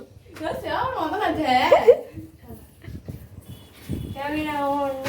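Voices chatter, then a dog whines in a drawn-out, high, tonal whimper near the end.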